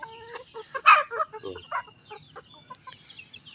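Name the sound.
chickens clucking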